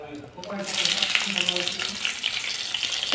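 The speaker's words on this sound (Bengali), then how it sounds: "প্রথমে চিকেনগুলো এখানে তেলে ভেজে দিই" Chicken pieces go into hot oil, and a sharp sizzle erupts after a quiet start, then continues loud and crackling. A voice is briefly heard at the start.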